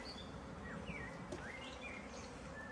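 Steady, dense buzzing of honeybees at an open hive during an inspection, many bees humming close by, with a few faint bird chirps above it.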